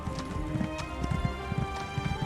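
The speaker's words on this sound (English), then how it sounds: "Heck, I've got like the Skyrim horse already equipped." Horse hooves clip-clop steadily in Elder Scrolls Online's Morrowind, a game horse trotting with a regular rhythmic beat over a layered ambient music bed, no talking.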